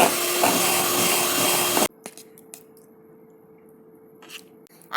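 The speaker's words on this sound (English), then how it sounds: "Beat it with the help of a beater." An electric beater whips a mango ice cream mixture with whipped cream, producing a loud, steady whirring rush for about two seconds before cutting off, leaving faint scattered clinks and rustles.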